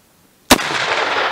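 A single sharp, loud gunshot from a Winchester 1895 Russian musket, followed by a long, noisy echo after a brief quiet start.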